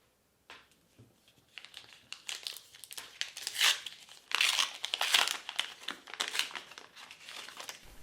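A Star Wars Unlimited booster pack's foil wrapper is torn open and crinkled, bursts of loud, close crackling and rustling coming in uneven waves with no talking.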